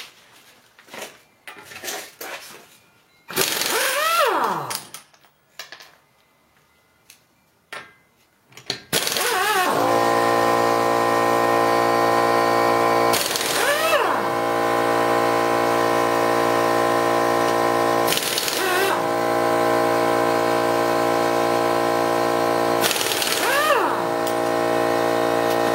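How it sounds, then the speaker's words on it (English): An impact wrench loosens lug nuts on a raised Ford Edge, firing several short, loud rattling bursts spaced seconds apart over a steady mechanical hum, after some quieter clattering at the start. "so I'm going to have to use impact wrench for this."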